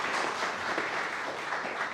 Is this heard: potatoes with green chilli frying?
no